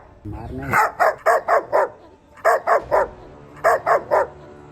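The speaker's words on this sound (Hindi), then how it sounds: "जोर जोर से भौंकने लगा" A dog barks loudly in three quick bursts of several sharp barks each, separated by brief pauses, close to the listener.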